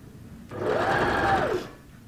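Sewing machine stitches a dress seam in one steady, close-up burst of rapid mechanical whirring that lasts about a second before stopping.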